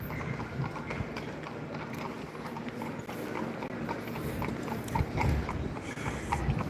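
A horse's hooves clip-clop steadily on pavement in Salzburg, Austria, a clear rhythmic clatter close by over a constant rumble of outdoor background noise.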